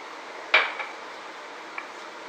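Spices mixed in a bowl, one sharp clink of a spoon against the dish followed by a couple of faint taps, quiet and sparse, no voices.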